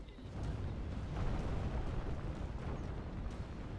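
Siege artillery firing during a castle assault in the Medieval II strategy game, giving a continuous rumbling barrage of heavy booms that blend into a dense, roaring wash of sound for several seconds, with no talk.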